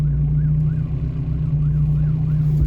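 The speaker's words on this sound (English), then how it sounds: "It's alright, it's just an ambulance," An ambulance siren wails in a repeating rising-and-falling pattern, fairly faint beneath a loud, steady engine drone.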